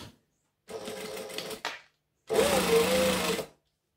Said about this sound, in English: we're going to stitch along there. So I'm going back to a joining stitch.